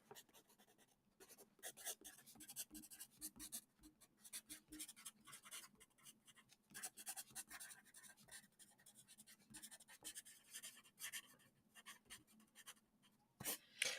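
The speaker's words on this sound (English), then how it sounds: "Let me write this question down because today is question and assholes day." Someone writes a question by hand with a pen or pencil on paper, producing a long stretch of quiet scratching and tapping strokes close up, with short pauses between words.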